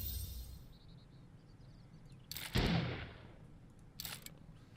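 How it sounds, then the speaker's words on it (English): Single handgun shot in the survival video game 7 Days To Die, a sharp broadband crack with a short rumbling tail, fairly distant against quiet ambience, followed a second later by a fainter, briefer pop. "Oh, I heard a gunshot."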